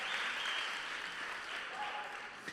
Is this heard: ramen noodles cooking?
no